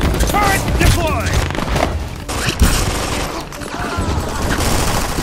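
Automated turret deployed in the shooter Brink fires loud sustained bursts of gunfire with booming impacts, continuous across the scene with voices faintly mixed in.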